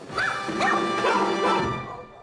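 Several dogs from a seven-dog household bark and yip together in a continuous, fairly loud burst of overlapping barks close by.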